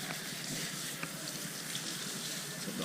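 Water splashes and pours steadily over a bicycle during a wash, a continuous close hiss with no voices.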